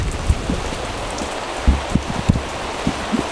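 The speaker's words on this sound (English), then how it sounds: "it is still raining" Rain falls steadily outdoors, a soft constant patter with scattered louder drops hitting a nearby surface at irregular moments.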